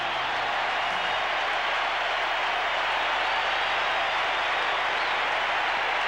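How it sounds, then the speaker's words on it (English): A big stadium crowd at the MCG applauds as Robert Flower leaves the field during the 1987 Melbourne v Sydney semi-final, a dense, steady wash of clapping heard at a distance. "The applause from the crowd as Robert Flower is taken off the ground."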